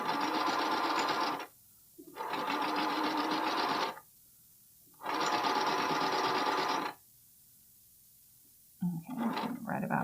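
A sewing machine stitches a bralette seam in three steady bursts of about one and a half seconds each, separated by short pauses. A brief clatter of handling follows at the end.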